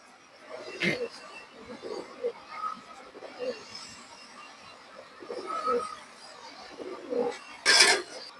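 An old pigeon gives low, faint coos in scattered bursts against a quiet background, with a brief sharp flutter or clatter near the end and a soft voice at times.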